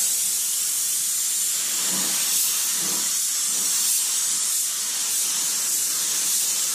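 A spray gun lays a heavier coat of paint on the trunk lid of a Renault Mégane cabriolet, giving a continuous close, loud hiss with faint pulsing as the passes move.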